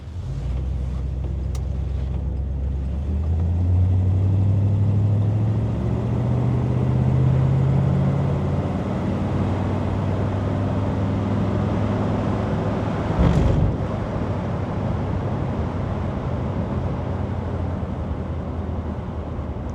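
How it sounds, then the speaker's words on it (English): A 1957 Ford Fairlane 500 Skyliner retractable hardtop on the move, its motor and exhaust droning steadily with a low rumble that swells and settles, road and wind noise mixed in, no talk. "You can hear the motor, but I think that's just due in part to the exhaust system."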